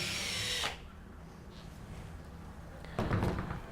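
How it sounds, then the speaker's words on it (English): A power drill boring holes, whining loudly at the start, stopping abruptly, then quiet room tone before the drill kicks back in near the end; close and clear, no talking. "Follow that up by actually drilling the holes in."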